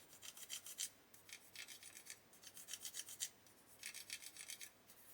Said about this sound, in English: Just a very light rub with a sponge, and that'll be gone.